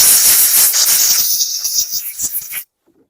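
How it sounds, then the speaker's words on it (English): Compressed air blasting oil off a 2019 Hyper Tough lawn mower, a loud close hissing rush in several bursts that cuts off abruptly, leaving near silence. "Let me blast this off with some compressed air."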